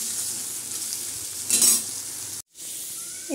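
Potatoes fry in hot oil with five-spice seeds and dried chillies, stirred in a pan, a steady close sizzle with a brief louder scrape of stirring midway and a short break near the end.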